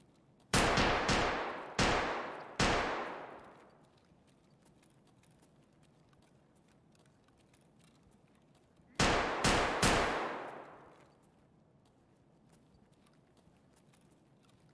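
Distant gunfire in Escape from Tarkov cracks out in two sharp bursts, three shots then a tighter cluster of three or four, each report echoing and decaying through a quiet background.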